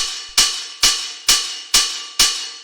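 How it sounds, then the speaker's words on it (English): A standard 909 open hi-hat sample struck five times at an even pace, each hit a bright, sizzling burst that rings out briefly before the next. "So this is your standard sort of 909 hi-hat."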